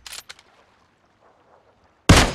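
Kar98k rifle in PUBG Mobile: a couple of sharp, distant shots near the start, near silence, then a loud close blast at the end.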